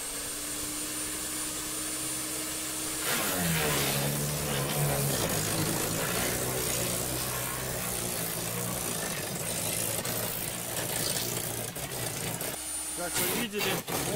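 A wheeled garden shredder runs with a steady motor whine, then loudly pulls in and chips a branch, grinding and crackling continuously before dropping back to idle.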